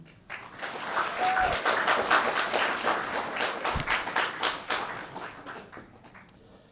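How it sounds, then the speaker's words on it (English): Audience applause for school staff at a Year 12 graduation ceremony: a crowd claps steadily for several seconds, rising quickly and fading out toward the end, with a few separate thumps mixed in. "So a round of applause for the staff"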